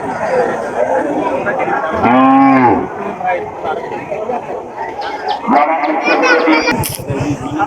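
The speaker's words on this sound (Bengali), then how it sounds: "পুরো বাড়ির দরজা সহ রাস্তাঘাট সব গরু আর গরু কানা কানা ভরে গিয়েছে" Cattle moo loudly at a crowded South Bengal cattle market, with one long close bellow and further lowing, amid constant crowd chatter and people talking nearby.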